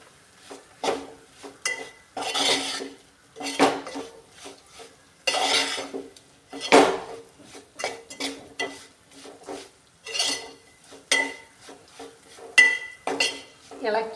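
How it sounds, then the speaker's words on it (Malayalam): Lemon pickle with chili powder is stirred in a pan with a spoon, giving repeated close scraping and clinking strokes in uneven bursts separated by short pauses. "ഇളക്കി കൊടുക്കാം."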